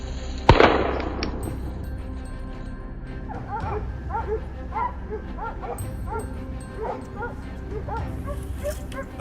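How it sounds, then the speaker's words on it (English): Hunting dogs barking among reeds while tracking a wild boar in snow, a pack of repeated yips and barks in uneven bursts, moderately near, after a sharp bang at the start and over a steady background hum. "the barking of hunting dogs signaled the presence of a wild boar"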